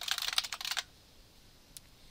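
Computer keyboard typing a username and password, a quick run of close, crisp keystrokes for under a second, then quiet with one more isolated key click.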